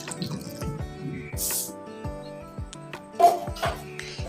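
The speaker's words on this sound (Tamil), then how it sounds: "இந்த வெங்காயத்தை கழுவுறது கொஞ்சமாக தண்ணி சேர்த்துட்டு மற்ற வெங்காயத்தையும் முடிச்சு எடுக்கிறேன்." Water splashes and drips in a sink with occasional light clinks as onions are rinsed by hand, close up.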